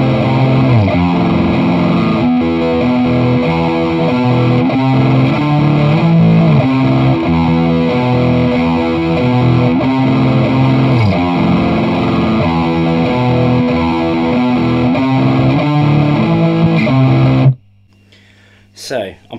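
Heavily distorted electric guitar plays a riff from a black metal song, loud and dense for about seventeen seconds before cutting off abruptly into near silence.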